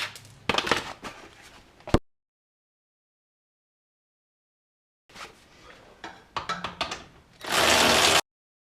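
A ratchet with an extension works a 15mm sway bar bolt on a Dodge Charger, Challenger or Chrysler 300. Two bursts of close, rapid mechanical clicking are split by a pause of a few seconds, and the second ends in a louder rasping run.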